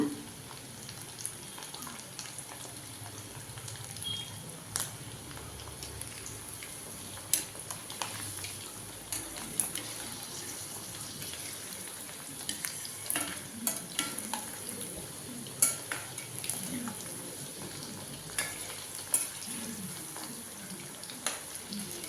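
Chicken 65 pieces deep fry in hot oil, a continuous bubbling crackle at moderate level with frequent small pops and spits throughout.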